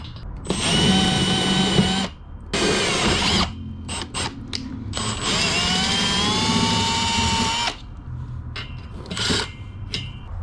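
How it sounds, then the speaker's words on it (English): A power drill bores holes through the floor of a Grand Design toy hauler trailer for e-track installation. It gives several close, loud, whining bursts of varying length, separated by short pauses, with no talking. "Okay, I have all my holes drilled that I'll be using."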